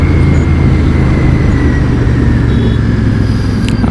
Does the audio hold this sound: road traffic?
yes